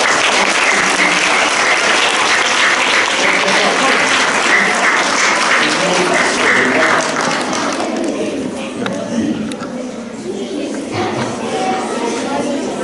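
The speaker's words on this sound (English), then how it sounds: "Could we get a nice round of applause for Moritz?" Applause from a school celebration assembly audience, steady and full for about eight seconds, then thinning out with some talk and shuffling beneath it.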